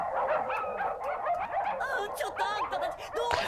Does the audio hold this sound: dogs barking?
yes